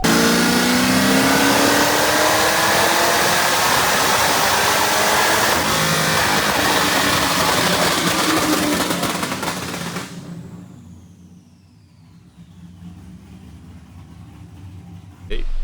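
A cammed Chevrolet Camaro SS engine revs hard and loud for about ten seconds to 6,000 rpm, pitch sweeping upward, then cuts off and winds down into a quieter idle.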